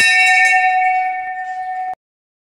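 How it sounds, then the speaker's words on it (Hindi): A temple bell at a Hindu shrine is struck once, ringing out with a bright metallic tone that sustains and slowly fades before being cut off abruptly. "घंटी है,"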